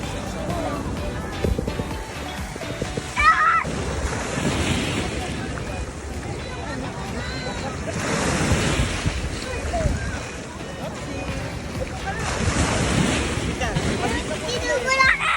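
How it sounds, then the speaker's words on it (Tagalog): Ocean waves rolling in at Boracay beach, a steady broad wash of surf with heavy wind buffeting the microphone, rising and falling in several swells, with people talking over it. "Eris, yun na, big waves!"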